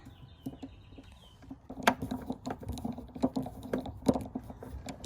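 A T25 driver unscrewing the screw that holds a satellite antenna on a Porsche 911, a run of small close clicks and ticks after a quiet start, no talk.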